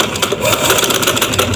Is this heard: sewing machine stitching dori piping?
yes